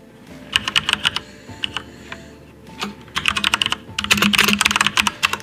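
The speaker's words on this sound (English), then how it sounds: "Do you like the clack of my keyboard?" Computer keyboard typed on during a card-ranking stream, with bursts of sharp, clacky keystrokes in quick irregular runs, close and fairly loud, ending in a dense flurry.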